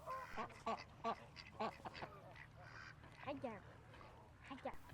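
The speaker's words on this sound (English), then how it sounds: "These American coots seem to disagree about something." American coots squabbling during mating season, with short harsh repeated calls in bursts, some overlapping, heard fairly faint against a low outdoor background hum.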